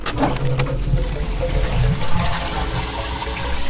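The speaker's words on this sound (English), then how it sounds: "I can still flush the toilet, I guess." An old toilet in a former dressing room, now a workshop space, flushes with a loud rushing gush of water that churns and gurgles throughout, close and alone.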